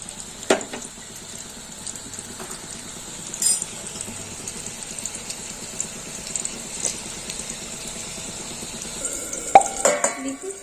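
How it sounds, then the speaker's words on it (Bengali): A spoon stirs a spice mix in a pan, making soft scrapes and occasional clinks over a low sizzle, with a few sharper knocks against the metal. "মশলাটা এইভাবে চামচ দিয়ে গুলে নেব"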